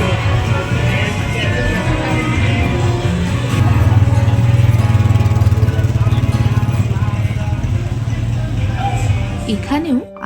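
Several ATVs run along a valley trail near Mazamitla, Jalisco, Mexico, their engines droning steadily and loudly throughout, swelling a little midway, with a constant mechanical rumble and no speech.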